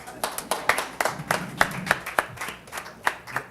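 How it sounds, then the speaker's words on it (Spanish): Applause from a press conference audience on the Beijing Treaty, a few people clapping at an irregular pace with sharp, distinct claps rather than a dense roar, moderately close. "Aplausos"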